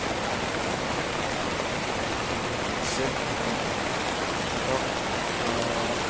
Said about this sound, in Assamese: বৰষুণ দিছে খুব জোৰে বৰষুণ দিছে